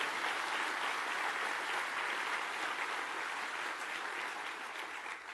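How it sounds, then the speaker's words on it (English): Sustained, dense applause from a crowd at a Labor Party campaign launch, a steady wash of many hands clapping that fades slightly toward the end. "give them a clap."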